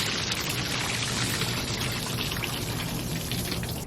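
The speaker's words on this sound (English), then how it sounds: "This is how much rain we've been getting." Heavy rain pouring down steadily ahead of Hurricane Dorian, a dense continuous close hiss and patter of drops on surfaces with no voices over it.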